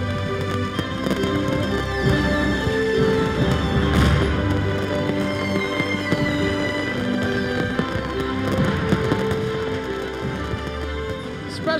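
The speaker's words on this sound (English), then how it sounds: "the fireworks they put off here are wonderful" Fourth of July fireworks over the Pennsylvania countryside, heard as a dense, continuous crackle and pop with a few louder bursts, fairly distant and without talk.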